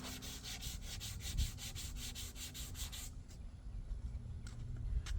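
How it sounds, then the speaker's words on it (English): Steady abrasive rubbing of sanding a Honda Civic body panel, rhythmic back-and-forth strokes for the first few seconds, then a quieter continuous scraping with occasional light taps. "I'm going to start sanding."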